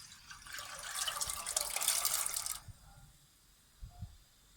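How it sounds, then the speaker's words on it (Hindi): Soaked chickpeas and their soaking water poured into a pressure cooker already holding water, a steady splashing pour for about two and a half seconds that stops abruptly, followed by a couple of faint clunks. "उसमें मैं अब डालूँगी चने, जो कि मैंने आधा लीटर पानी में भिगोए हुए थे।"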